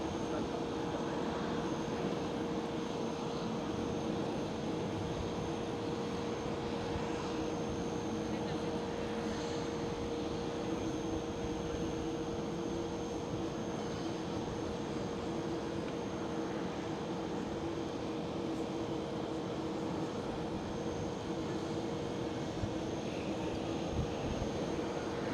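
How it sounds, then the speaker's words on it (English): A KLM Boeing 737 takes off and climbs out from Amsterdam Schiphol, its steady broadband engine roar holding loud and continuous throughout, with a faint voice talking under it. "a KLM 737 just passed by to rotate and climb out of the airfield"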